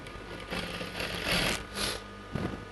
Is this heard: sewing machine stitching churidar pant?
yes